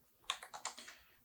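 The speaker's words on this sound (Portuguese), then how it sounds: "Eu vou digitar aqui no navegador Google Colab" Quick burst of about six crisp keystrokes on a computer keyboard while typing into a web browser, close and fairly quiet, over a faint steady background hum.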